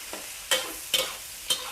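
Garlic, ginger and coriander root stir-fried in a pan for a glass-noodle and prawn dish, heard as three sharp scraping stir strokes over a soft steady sizzle, close and alone.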